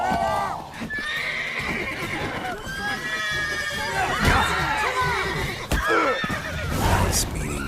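Horse neighing and whinnying with clip-clopping hooves in The Witcher 3: Wild Hunt, several sharp whinnies rising over steady hoofbeats and game sounds, with voices talking in the background.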